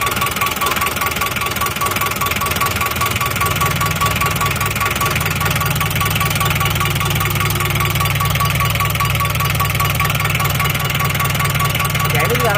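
Diesel engine of a Daihatsu Taft GT idling, warming up and smoking, a loud steady rumble with rattling knock throughout, with someone talking over it.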